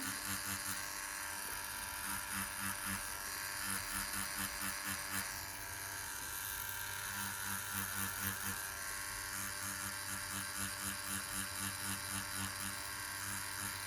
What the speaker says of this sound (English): Did I turn the machine around depending on how I want to cover that area?